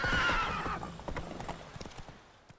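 A horse in The Witcher 3 whinnies at the start, then its hooves clip-clop in a quick, even rhythm along a road, close and clear, fading slightly toward the end.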